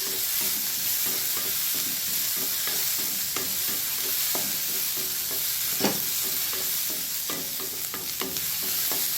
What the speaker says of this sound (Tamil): கேரட், அடுத்து கேப்சிகம் எல்லாத்தையும் சேர்த்து நல்லா மிக்ஸ் பண்ணிக்கலாம்.